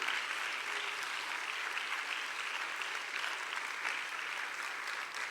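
Steady applause from a church congregation praising God, a dense, even wash of clapping that holds at full strength from start to finish with no voices standing out.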